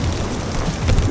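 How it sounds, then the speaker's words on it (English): Steady outdoor rain with gusting wind, a continuous broadband wash and low rumbling buffeting on the microphone, fairly loud and close with no talking. "It is wet, it is rainy, it is windy."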